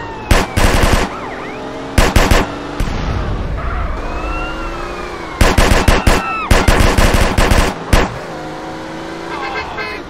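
Bursts of rapid automatic gunfire from a drive-by shooting in GTA San Andreas, fired from a classic BMW car, come in several loud clusters over steady engine noise and a wailing siren, with voices talking in between.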